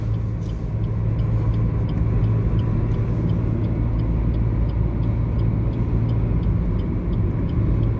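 A car creeps slowly along a Vizag highway, its engine and road rumble forming a steady, loud drone close by with no pauses, and no voices on top.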